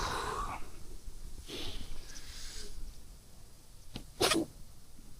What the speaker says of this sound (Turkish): Hapşırma.